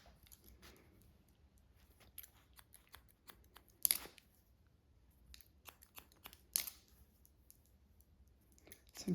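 Scissors snip through short hair during a pixie cut, a quiet, close run of irregular crisp clicks and cuts with a couple of louder snips.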